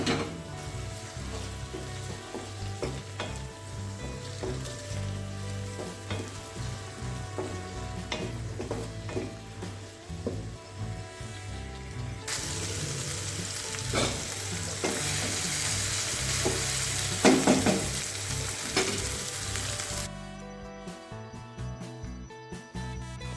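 Onions, tomato and curry leaves fry in a pan for ladies finger stir fry, with a steady close sizzle and occasional stirring scrapes, louder in the middle before quieting toward the end.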